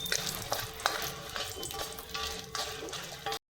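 Red chillies roast in oil in a pan for peanut garlic podi, a close crackling sizzle broken by sharp stirring scrapes and clinks, cutting off abruptly at the end.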